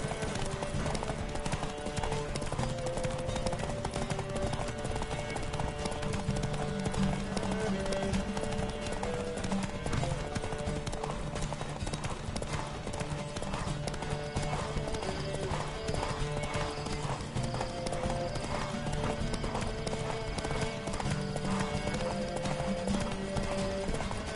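Rapid, rhythmic hoofbeats of galloping horses in a race in the video game The Witcher 3 pound continuously under loud music, with a steady driving pace throughout.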